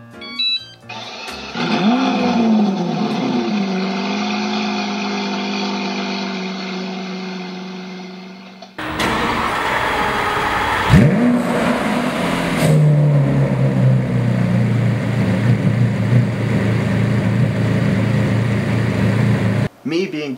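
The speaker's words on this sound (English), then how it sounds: "it makes a Lamborghini Aventador noise when you start it up" A hoverboard plays a synthesized Lamborghini Aventador start-up sound: a cranking whine and ignition, then a deep rumbling idle swells loudly, cuts, and returns as a revving roar, fairly close and with no talk over it.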